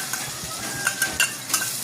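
Chopped onion hitting hot oil seasoned with a crackling tempering for a spicy Maharashtrian eggplant bharit, giving a soft steady sizzle with a few sharper crackles and spoon clinks close by.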